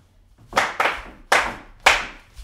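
Sharp single hand claps in an online solo jazz swing dance class, four distinct loud claps in a counted rhythm, close and alone with no talk.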